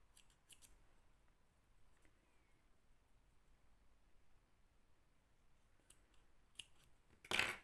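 Scissors snip the thread of a needle lace flower in a quiet room, with a few faint close clicks and a louder, sharper cut at the very end.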